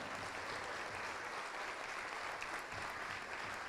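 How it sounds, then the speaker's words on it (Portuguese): A church congregation applauds with dense, sustained clapping that fills the space evenly for a few seconds, fairly soft in level with no voices standing out. "Vamos aplaudir mais, vamos aplaudir mais."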